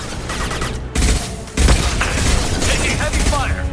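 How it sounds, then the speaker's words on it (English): Sustained heavy gunfire from a firefight in Mass Effect 2 on PC, dense bursts and booming impacts that swell sharply about a second in and again past halfway, running continuously at close range. "Taking heavy fire."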